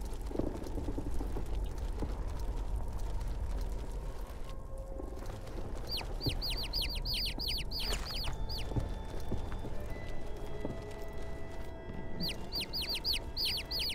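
Chickens cluck and chirp in the video game Niffelheim, with bright, repeated calls bunched from mid-clip onward over a steady low ambient rumble.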